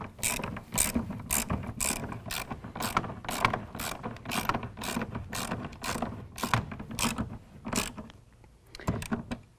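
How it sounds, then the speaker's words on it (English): A hand ratchet with a 9/16 inch socket tightening a clamp on a roll-up bed cover on a 2018 Ford F-series truck, making a close series of rapid, crisp ratcheting clicks in quick bursts with short pauses between strokes. "we're going to use a 9/16 inch socket"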